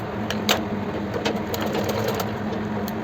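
A sewing machine stitches a seam on a kurti, running steadily and close up with a fast, even mechanical whir and light rhythmic clicks, alone without talk.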